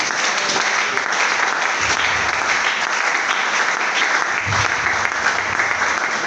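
A church congregation applauding and cheering, steady dense clapping filling the room for several seconds without a break.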